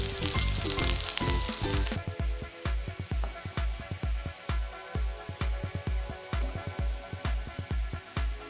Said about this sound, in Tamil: அதே எண்ணெயில இந்த ரெட் சில்லியை உள்ள போட்டுரும்.